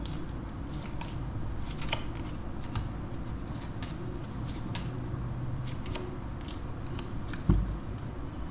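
Oracle cards are shuffled and drawn for a tarot reading, giving soft, crisp riffles and snapping flicks close up. The sound is quiet and there is no speech.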